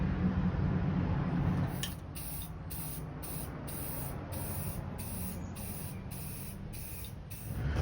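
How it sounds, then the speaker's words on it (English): Flat black primer is sprayed onto a metal industrial end table. A close, continuous hiss of the spray can runs for several seconds, with rapid regular pulsing heard over the steady spray. "now I'm going to spot prime the places that I touched up and resanded"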